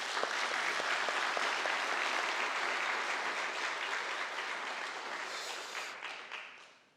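An audience at a Sunday afternoon youth-led worship service claps for the young people, dense sustained applause filling the room before thinning and fading out at the end.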